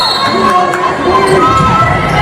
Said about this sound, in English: It sounds like some excited fans. Yes. The crowd went crazy.